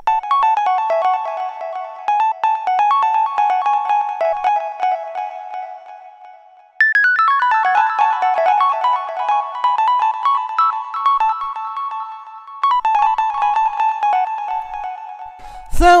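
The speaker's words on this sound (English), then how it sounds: "Then we have this Wurlitzer solo, which sounds like this." A Wurlitzer electric piano plays a loose solo in a deep minimal house track. Bright, bell-like phrases repeat in short runs, close and prominent, with no voice over them.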